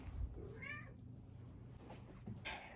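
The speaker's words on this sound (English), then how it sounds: "The cat is scratching my door trying to get in." A house cat outside a closed door gives two short, quiet meows a couple of seconds apart against faint background noise. No scratching is clearly audible.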